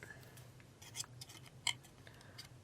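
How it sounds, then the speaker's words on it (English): Scissors trimming a craft piece, a few soft close snips and small clicks, faint and spaced out against a quiet room. "Right up here, if I just trim it a little bit."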